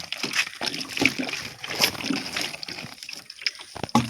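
Water is poured over a plant at home, a loose, sloshing trickle with splashes that runs for a few seconds at close range, with no talk.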